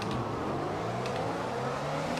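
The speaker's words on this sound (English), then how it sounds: "Get the revs sorted out." A Formula 1 car engine in the game F1 2021 revs on the grid at Silverstone before the race start, a dense continuous high-pitched drone held steady at full volume with no speech.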